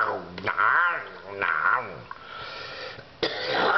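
A voice imitates a snarly, chompy, growly noise, with wavering growls and snarls in short bursts separated by brief pauses, close and fairly loud.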